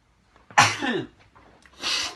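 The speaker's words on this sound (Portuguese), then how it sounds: "eu pensei que eu não fosse espirrar, mas acho que eu não vou conseguir" A single sharp sneeze bursts out in a quiet room, followed by a short breathy exhale.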